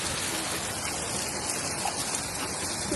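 Hail pelting down outside a house in England, a dense, continuous pattering and hiss of ice pellets striking surfaces, steady and fairly loud with no talk.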